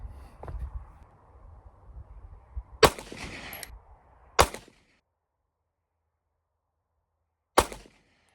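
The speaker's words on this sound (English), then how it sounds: "so that was 3 shots with the Zero" A Taurus TH9 pistol loaded with Zero brand bullets fires three sharp, loud shots outdoors at a range, spaced a second or more apart, the last after a long quiet pause, with faint handling noise between them.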